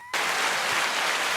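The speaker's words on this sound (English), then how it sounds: "Oh, we got applause." Applause breaks out abruptly after a moment of quiet, a dense, even wash of clapping that holds steady and fairly loud without any talk over it.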